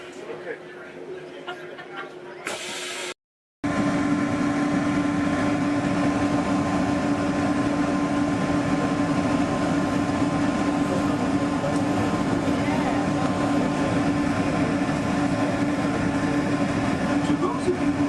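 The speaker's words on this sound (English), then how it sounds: "welcome aboard the Disneyland monorail" The Disneyland monorail runs with a steady loud rumble and a droning hum. A brief quieter stretch with soft chatter comes before it, and then the sound cuts out for a moment.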